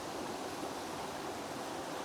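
Steady broadband rush of a waterfall heard from a distance at a rainy landscape photography location, a constant even roar with no breaks and no voices.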